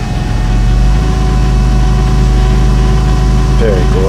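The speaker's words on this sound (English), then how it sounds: "Wait for the car to come up in revs." A Suzuki Sierra engine idles steadily as it warms up, a loud, continuous low rumble with a faint rise near the end.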